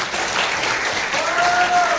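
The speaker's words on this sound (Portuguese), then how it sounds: "Vamos aplaudir ao Senhor por essa palavra" A church congregation applauds together, a steady wash of clapping filling the room throughout, with a faint sustained tone rising underneath near the end.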